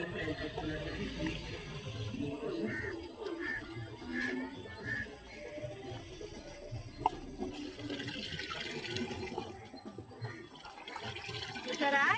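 Coffee powder is stirred into collected waste water to make plant fertilizer, producing continuous sloshing and swirling liquid sounds with occasional splashes at a moderate, close level.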